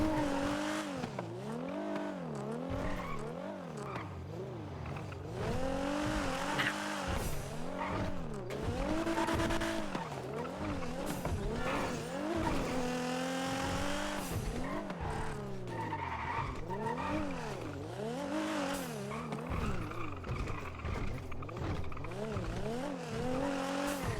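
A car in a NoPixel game is driven recklessly, its tires squealing in long, wavering howls again and again as the engine revs, with occasional voices underneath.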